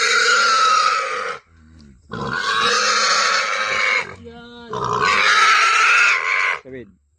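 Pigs on a farm grunt in loud bursts, three long stretches of heavy grunting separated by brief pauses, with someone talking nearby.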